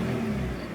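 A BMW Z4 engine with a K&N air filter revs loudly and steadily, a dense mechanical roar up close with no voices.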